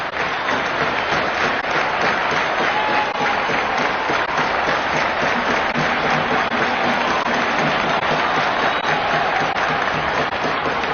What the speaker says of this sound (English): Cub fans talking it up, cheering their idols on